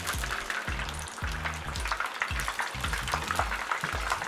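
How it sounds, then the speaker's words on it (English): Battered fish frying in hot oil for fish and chips, a close, steady crackling sizzle with recurring low thumping pulses underneath, no voices. "Put it slowly in the oil. Let fry for 2 minutes."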